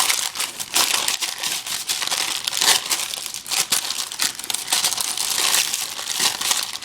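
Parchment paper crinkles and rustles continuously while it is pressed down onto a brownie base, close and fairly loud in irregular crackling bursts with no talk.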